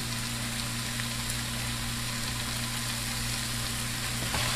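Shrimp with onion, salt and spices cooks in a pan with a soft, steady sizzle, heard close and alone over a low constant hum.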